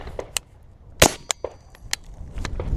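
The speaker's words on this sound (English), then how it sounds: "so we're gonna throw the can on it again and give it a shot" Suppressed gunshot from a hog hunting rifle fitted with a suppressor, one sharp crack standing out among several fainter metallic clicks and clanks of the action, heard close and alone with no talk.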